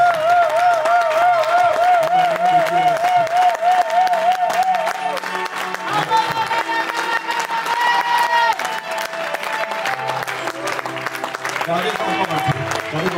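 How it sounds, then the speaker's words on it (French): A congregation at a thanksgiving memorial service breaks into sustained loud applause and cheering that fills the room for over ten seconds, with voices and music heard faintly within it. "Puis-je vous demander juste d'acclamer une manière de dire merci."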